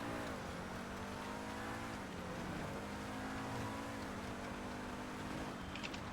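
Snowy streets of Los Santos in GTA V Online, where an AI-driven car revs and accelerates steadily, its engine pitch rising and falling with gear changes in a continuous game-audio drone, no talk.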